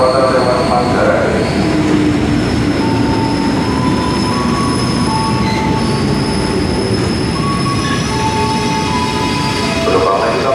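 A freight train rolls along track 2 at Klender station, a loud, steady rumble of wagons with high, sustained wheel squeal and metallic screeching throughout as it passes close by.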